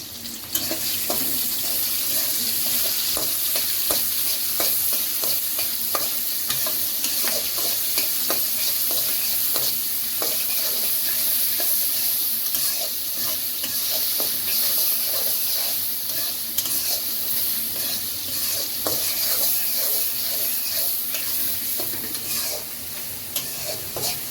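Egg and onion fry in a pan with a steady, loud sizzle throughout, while a utensil stirs and scrapes at intervals close by.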